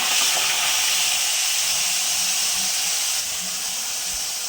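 Ground spice paste hits hot oil in a pan after black cumin seeds and sets off a steady, loud hissing sizzle that holds broad and constant throughout, easing slightly toward the end, with no talk.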